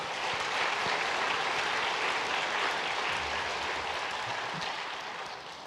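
A church congregation applauds steadily to welcome new members during a Sunday service, a dense wash of many hands clapping at once that holds for several seconds and eases off slightly toward the end, with a faint low hum beneath.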